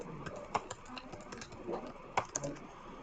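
Uneven, hunt-and-peck typing on a computer keyboard, with close, crisp key clicks falling in irregular bursts and occasional louder strikes, set against a quiet room.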